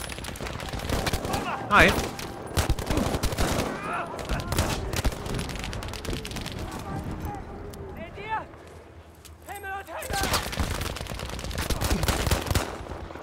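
Rapid gunfire in Battlefield V, soldiers being shot at in a World War II setting, with dense bursts of rifle and machine-gun shots, near and loud, briefly thinning midway before resuming, while someone talks over it.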